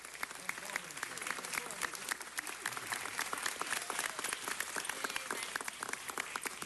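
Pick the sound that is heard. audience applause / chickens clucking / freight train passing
audience applause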